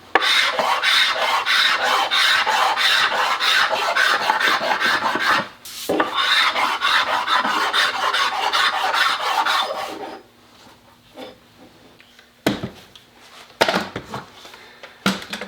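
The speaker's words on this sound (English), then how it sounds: "all I'm going to do is scrape this one because I don't see a lot of tool marks on this" A hand scraper is pulled across a wooden Telecaster guitar body blank in steady, rapid rasping strokes for about ten seconds. A short pause falls midway, then quieter taps and brief scrapes follow near the end.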